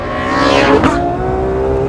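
A Ferrari F12 accelerates wide open on a race track, its engine wailing as the pitch climbs steadily, close and loud, with a brief sweep of tire or wind noise midway.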